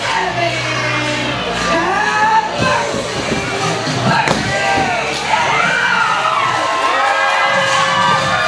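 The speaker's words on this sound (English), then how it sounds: "this crowd cannot get enough of the Sweet Tooth Superstar, Percy Davis." A wrestling crowd at an indie wrestling event cheers loudly and steadily, with shouts and whoops rising through a dense roar, including high children's voices, and a few sharp impact thuds in the mix.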